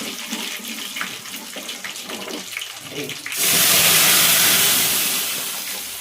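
Cooked lentils for spinach dal are tipped into a hot tempering of chillies and curry leaves: soft stirring clinks first, then a sudden loud hissing sizzle bursts up and slowly fades.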